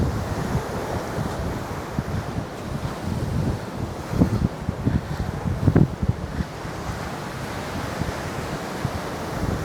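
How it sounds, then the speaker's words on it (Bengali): Ocean waves wash onto Mirissa Beach in Sri Lanka, a steady surf roar with rising swells and gusty wind across the microphone, with no voices. "সুন্দর একটি সমুদ্র সৈকত।"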